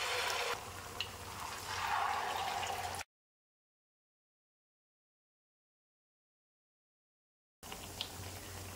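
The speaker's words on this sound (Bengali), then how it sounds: "এবার ব্যাটারের মধ্যে একটা নাস্তা ডুবিয়ে গরম তেলের উপর ছেড়ে দেব।" Potato-and-flour snacks dipped in batter hiss softly in hot oil, a steady low sizzle that drops out into complete silence midway before the frying noise returns.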